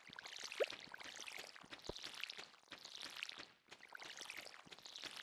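Crops being watered with a watering can in the video game Stardew Valley, heard as a steady run of soft splashing, sprinkling pours that repeat with brief gaps, fairly quiet and with no talk.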